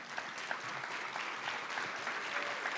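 An audience applauds at an award ceremony for an essay and drawing prize, a steady stretch of clapping from a room full of people, moderately loud and unbroken.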